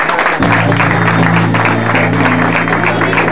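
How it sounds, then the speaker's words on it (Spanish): A crowd at a live comedy show applauds loudly and continuously for a performer, with a steady sustained tone from music or a microphone running underneath. "Un aplauso para Rosarito."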